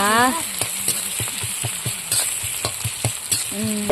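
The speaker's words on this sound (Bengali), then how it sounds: "কি সুন্দর লাল লাল করে দেখো পেঁয়াজ ভাজা হয়ে গেছে" Onions fry with cumin in oil for a rohu fish curry, giving a loud, continuous sizzle with regular scraping knocks from stirring. A brief voice sounds at the start and end.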